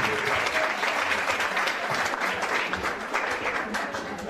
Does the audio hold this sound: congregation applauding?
yes